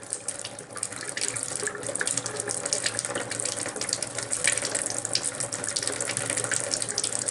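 Cold water runs steadily from a tap, a continuous close hiss and splash without pause.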